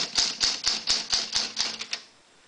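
Keys of a 1939 Imperial 50 desktop typewriter strike in a steady run of about eight sharp clacks, close and loud, with the last few coming quicker before the typing stops.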